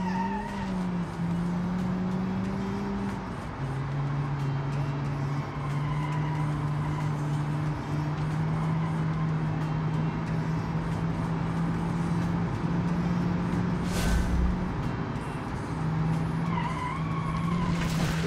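A car in BeamNG.Drive brakes and skids through a corner, tires squealing in long sustained tones that shift in pitch over a continuous engine drone, loud and close with no talking.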